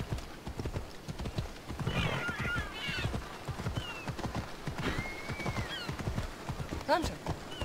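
Horse hoofbeats in Assassin's Creed Odyssey, a rapid clip-clop gallop running throughout, with a horse whinnying a couple of times and someone speaking over the riding.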